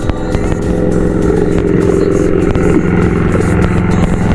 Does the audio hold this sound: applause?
no